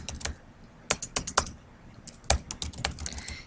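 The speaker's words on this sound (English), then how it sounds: "I'm going to press Tab to move the insertion point to the next cell, or Shift Tab to move the insertion to the previous cell" A computer keyboard clicks out a quick burst of keystrokes, including Tab presses, while moving between cells of a table in Microsoft Word. The crisp taps come in two close clusters separated by a short pause, with no voice.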